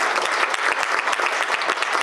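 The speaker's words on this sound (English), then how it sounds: "Let's give them a round of applause." Applause from the audience at a governing board candidate forum, many people clapping together in a lively, even patter with distinct sharp claps standing out, sustained and fairly close throughout.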